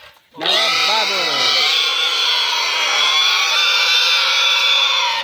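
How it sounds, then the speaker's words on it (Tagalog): A large pig on a farm squeals and grunts loudly and continuously while it is weighed, opening with lower grunts before rising into a sustained high scream, with people faintly audible around it. "Tinitimbang na po ang pinakamalaki na baboy."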